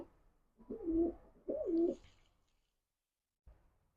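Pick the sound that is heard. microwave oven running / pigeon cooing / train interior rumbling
pigeon cooing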